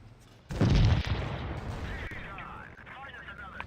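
A high-explosive tank shell slams home in the World of Tanks Blitz game, a sudden loud boom that rumbles and fades into crackling and whistling effects, with a voice talking over the tail.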